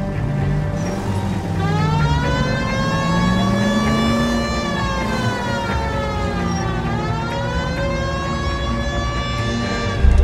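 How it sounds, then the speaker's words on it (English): A police siren in the video game L.A. Noire wails continuously, rising and falling in long sweeps over a car engine, loud and close with no talking. "Hit the siren."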